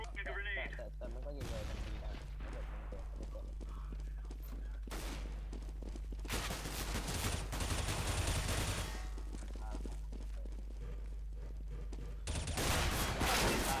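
Gunfire in the video game CS:GO comes in loud bursts of rapid shots over steady game background noise, with players talking excitedly between and over the volleys.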